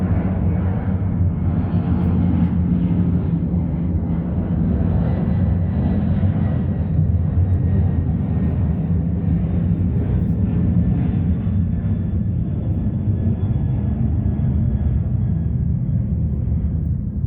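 A plane taking off from Ontario International Airport produces a loud, steady, broad engine roar that holds for about seventeen seconds with no talking.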